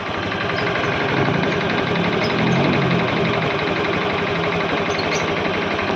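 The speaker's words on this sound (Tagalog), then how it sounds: "hindi mo maririnig yung tunog ng motor maririnig mo yung lagitik niya" A Honda Click 125i scooter engine idles steadily up close, with a fast, persistent mechanical ticking riding over the hum throughout.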